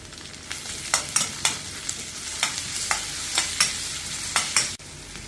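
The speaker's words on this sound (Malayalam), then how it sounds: "ഇതിലേക്ക് ഒരു തക്കാളി ചെറുതായി മുറിച്ച് ചേർത്ത്" Onion, ginger, green chili and tomato sautéing in a pan for wheat rava kichadi, with a soft steady sizzle broken by about a dozen sharp spatula scrapes and stirs at an uneven pace, close up and with no voices.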